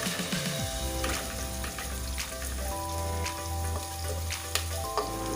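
Onions frying until golden brown for a ridge gourd (tori) sabzi, a soft, steady crackle and hiss of oil, close but quiet, with a low hum underneath and a couple of faint taps near the end.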